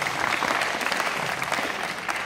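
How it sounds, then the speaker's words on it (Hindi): An audience applauds a karate instructor at an Ashihara karate demonstration in India, with dense, steady clapping that fills the short stretch at an even loudness. "जोरदार ताली बजे सर के लिए।"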